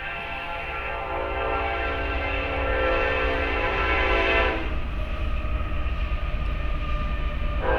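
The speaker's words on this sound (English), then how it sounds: "No, that's not lag that you're hearing, that's a train." A train rumbles past with a sustained horn blaring at first, then a continuous rolling roar of rail cars fills the rest.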